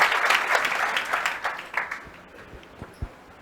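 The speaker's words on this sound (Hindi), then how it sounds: "तो एक बार जोरदार तालियों के साथ" A crowd claps loudly and steadily, the applause gradually thinning out into a few scattered, isolated claps near the end.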